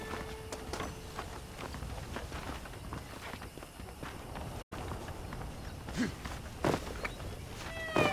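Horse hooves clip-clopping at a steady walking rhythm in the Red Dead Redemption video game, close and moderately loud over a dense ambient bed, with a brief dropout midway.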